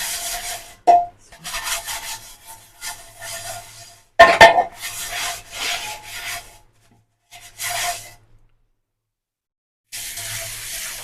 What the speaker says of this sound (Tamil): பாத்திரம் தேய்ச்சிட்டு அப்புறம்